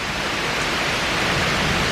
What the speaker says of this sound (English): this is the most it's rained all day.